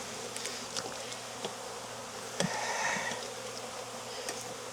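Honeybees buzz around an open hive being worked in Jacksonville, Florida, a faint, continuous hum with occasional soft knocks and clicks from handling the frames.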